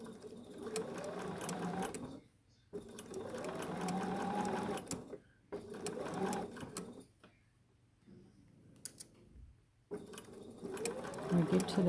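A sewing machine stitches half square triangle fabric pieces in several bursts of steady running, separated by short pauses and quieter slow stretches.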